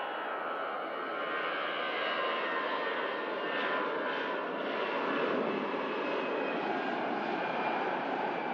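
EasyJet airliner at Manchester Airport climbing after takeoff with its landing gear retracting, a steady broadband jet engine roar at moderate distance, holding level throughout with no voices.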